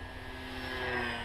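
Hobbyking Slowstick RC airplane at full throttle, a steady buzzing electric motor and propeller whine, continuous and fairly faint with no talk.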